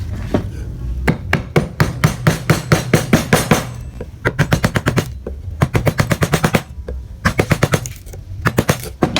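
A gouge chisel carves wood in rapid, rhythmic bursts of sharp tapping strikes, loud and close, with brief pauses between the runs of blows.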